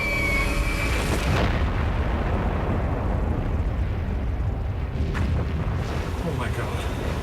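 Little Boy atomic bomb exploding over Hiroshima, a loud, sustained low rumbling roar of blast filling the whole clip, with a sharper burst partway through.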